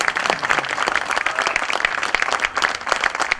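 Dense, sustained applause from an audience fills the whole stretch, many hands clapping evenly and fairly loudly.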